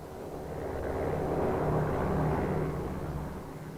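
A propeller supply plane drones overhead in New Guinea, its engine swelling louder toward the middle and then fading slightly, a steady low rumble with no voices.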